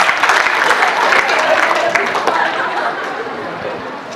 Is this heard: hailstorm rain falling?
no